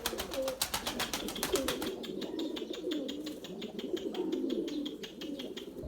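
Pigeons cooing close by in low, repeated throaty calls, with a quick flurry of flapping wings at the start, during a flight of a flock of tumbler pigeons.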